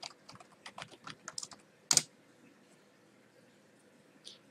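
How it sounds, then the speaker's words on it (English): Quick, light keystrokes tap out a web address on a computer keyboard in an irregular close-up run, followed by one sharper key press and a faint final tap, with no talk. "we'll just type that in our browser."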